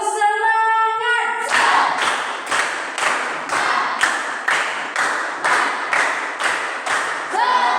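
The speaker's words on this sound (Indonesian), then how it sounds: "Tepuk semangat." A class claps a rhythmic chant-style clap, with about ten evenly spaced bursts of many hands following a short sung or spoken lead-in, close and lively.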